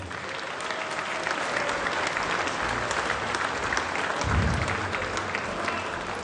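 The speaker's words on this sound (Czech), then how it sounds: "Klobúk dole, veľký potlesk pre nich." Loud, dense applause fills a fight night venue, a crowd clapping continuously and evenly, swelling slightly near the end with a brief low rumble underneath.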